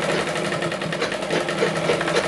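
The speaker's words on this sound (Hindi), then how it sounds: "ये इस तरीके से यहाँ पर भी दोबारा सिलाई हम चला लेंगे" Sewing machine stitching a katori blouse runs steadily and close, a dense continuous whirring hum with fast stitch rhythm throughout, no talking.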